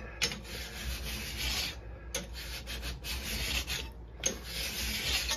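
A worn hand file rasps steadily across a chainsaw bar being dressed, repeated scraping strokes in three long bursts with brief pauses between, close and fairly loud with no talking.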